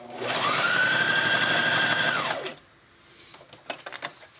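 A sewing machine stitches a baby changing mat in a steady close whir for about two seconds, then stops, followed by a few soft clicks and fabric handling noises.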